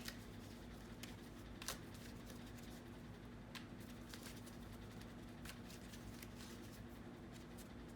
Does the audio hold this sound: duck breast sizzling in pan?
no